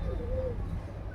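A pigeon gives a single low, short coo near the start, set against a steady rumble of background noise.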